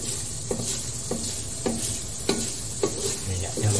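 Coconut milk cooks down in its own oil to make coconut oil, sizzling and frying steadily while a utensil scrapes and stirs the pan in regular strokes, close and alone without talk.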